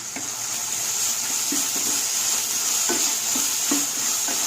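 Tomatoes fry in a pan for broad bean tomato curry, a constant loud sizzle with soft, regularly spaced stirring taps underneath, close up and with no talking.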